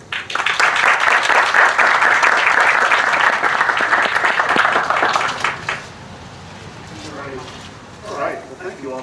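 Applause from an audience welcoming Michael Port at an academy family weekend event: dense, loud clapping fills the room for about five seconds, then fades into quieter murmurs and scattered sounds.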